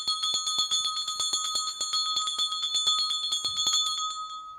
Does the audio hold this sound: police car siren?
no